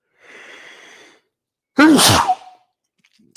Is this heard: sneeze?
yes